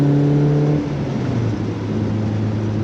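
A manual 4-cylinder BMW Z3 sports car on back roads accelerates, its engine droning steadily with a tone that shifts pitch mid-pull, loud and close with no talk.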